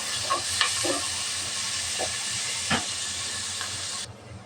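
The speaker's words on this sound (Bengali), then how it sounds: "দিয়ে দেব পেঁয়াজ কুচি আর চারটা মরিচ কুচি পেঁয়াজটা ভালোভাবে ভেজে নেব" Chopped onion and four chopped green chillies fry in hot oil, a steady close sizzle with a few soft pops and stirring clicks that cuts off sharply just before the end.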